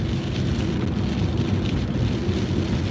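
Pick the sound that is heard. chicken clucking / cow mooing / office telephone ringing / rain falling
rain falling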